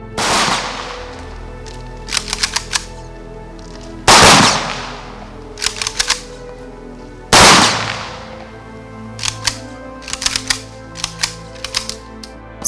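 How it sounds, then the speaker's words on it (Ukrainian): Three loud military gun salute volleys crack at even intervals at a funeral, each followed by a burst of sharp mechanical clicks and clatter in an open outdoor space. "традиційно пролунав останній військовий салют"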